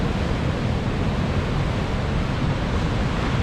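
Atlantic Ocean surf at Hartland Quay pounds over offshore rock, heard as a dense, unbroken roar of waves and wind filling the whole stretch at steady loudness, with no talking.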